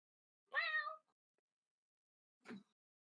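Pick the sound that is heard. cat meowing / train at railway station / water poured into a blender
cat meowing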